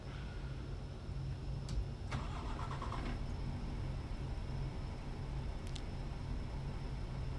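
A DAF XG truck in Euro Truck Simulator 2 starts up with a short cranking rattle, then settles into a low, steady diesel idle that continues quietly to the end.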